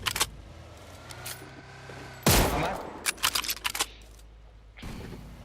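Gunfire in the mobile battle-royale game PUBG Mobile: a loud burst near the middle followed by a quick cluster of sharp shots, with a further burst at the end over low game background noise.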